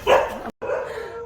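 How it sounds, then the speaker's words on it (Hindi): Several dogs barking loudly and close by along a roadside near a mountain temple, a burst of sharp barks followed by a short pause and then continued barking. "भाई सारे कुत्ते मेरे को भौंक रहे हैं,"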